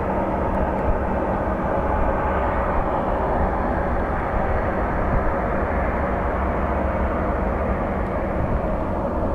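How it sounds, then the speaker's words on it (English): General aviation propeller plane at Sky Harbor International Airport, a steady loud broadband engine roar and rumble holding throughout without a break. "Bunch of general aviation prop planes."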